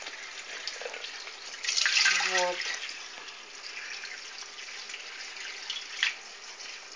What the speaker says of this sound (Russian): я ставлю под проточную воду. И вот так вот я